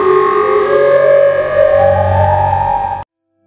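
Siren Head's siren wail from a horror video game, a loud, sustained tonal blare with gliding pitch that holds for about three seconds and then cuts off abruptly into silence.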